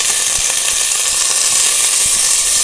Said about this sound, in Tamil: அது கொஞ்சம் கிராக்கிங் சவுண்டு வரும்